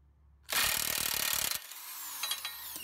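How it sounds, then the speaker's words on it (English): A wrench with a 32 mm socket spins the CV axle nut off a Dodge Grand Caravan in a loud, rapid, rattling burst of about a second. Quieter metallic clicks and rubbing follow, close by, with no talking. "we're gonna remove this nut, and we're gonna use a 32 millimeter socket"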